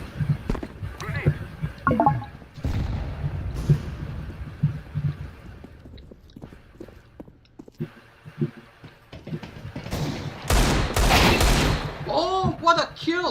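Desert Eagle gunfire in the Counter-Strike video game, with several sharp shots and bursts of game noise spread through the clip, some loud and close, along with other in-game sounds.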